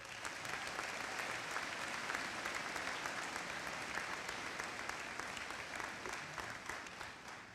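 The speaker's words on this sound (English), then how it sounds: "she deserves a round of applause" Commencement audience at a high school graduation giving sustained applause for a retiring educator, a broad wash of many hands clapping steadily at even loudness for several seconds, easing slightly at the very end.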